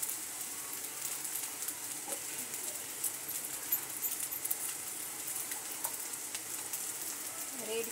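Homemade noodles fry in a hot pan with a dense, even sizzling hiss throughout, close up, broken by light scattered clinks and scrapes of stirring.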